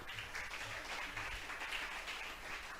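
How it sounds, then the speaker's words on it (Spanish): A church congregation applauding, a broad, continuous wash of many hands clapping at moderate loudness that carries steadily throughout without a clear start or finish. "Vamos a brindarle un fuerte aplauso a nuestro Dios."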